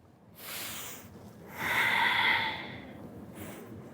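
Close, breathy exhalations and inhalations during a gentle exercise session, with two or three distinct breaths separated by short pauses and no talking.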